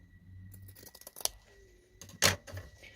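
Scissors snip open fabric between two sewn seams along a marked line while making a small fabric bag, giving a few quick crisp cuts with a sharper snip near the end, close and moderately quiet.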